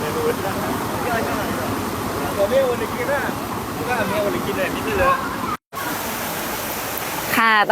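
A creek beside a countryside cafe in Phop Phra, Tak, Thailand, where children play in the water. The close, steady rush of flowing water fills the scene, with faint distant voices, a brief dropout, then the flow resumes.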